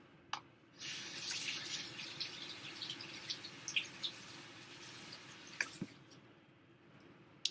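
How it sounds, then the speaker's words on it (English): Running tap water while a hand is washed under it, a steady soft splashing stream at the sink with small squishes and drips, fairly quiet and close, ending as the flow stops. "I'm gonna wash my hand off"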